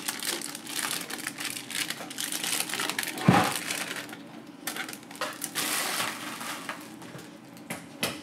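A hard drive being unwrapped from its packaging: close crinkling and crumpling of plastic and wrapping, uneven rustles with a sharp thump partway through, no voices.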